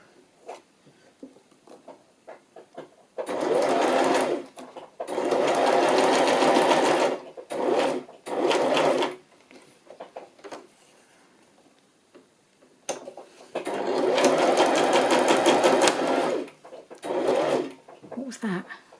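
Domestic sewing machine running a long straight stitch, several sustained whirring bursts of a few seconds each separated by pauses, close and loud, with speech in the quieter gaps.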